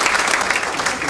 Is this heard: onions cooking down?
no